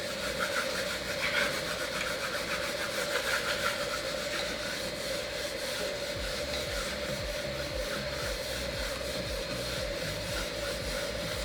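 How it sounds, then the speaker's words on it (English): A tool rubbed back and forth over a craft transfer sheet on a heat press gives steady, close scraping and rubbing strokes with no talk. "get your tool again and just make sure you rub all that in."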